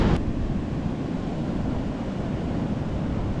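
Surf and strong wind on a beach in Hoi An, Vietnam, a steady broadband roar of large waves mixed with gusting wind buffeting the microphone, continuous and fairly loud with no voices.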